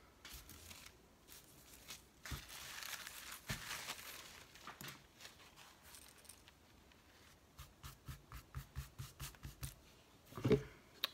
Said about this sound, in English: Let's cut this the way we do.